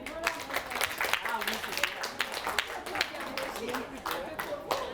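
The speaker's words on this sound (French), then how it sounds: "Vous vous applaudissez vous-même." An audience at a women's empowerment conference applauds itself, dense clapping spread across the room and sustained steadily at moderate loudness, with a voice talking faintly over it.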